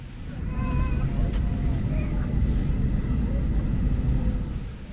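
Spirit Airlines jet cabin in flight from Orlando to Newark, a steady low engine and air roar filling the cabin, with faint voices in the background.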